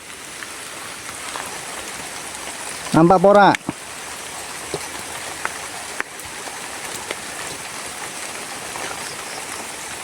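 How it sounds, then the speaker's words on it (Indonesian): Light drizzling rain patters steadily at a border area at night, a soft continuous hiss broken by a short burst of a loud voice speaking partway through. "Hujan. Hujan gerimis, Bolo."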